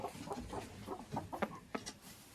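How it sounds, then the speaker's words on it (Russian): A broody hen clucks in a close series of short, throaty calls with an uneven rhythm, clear and alone. "А это наша квочка, которая квахтала"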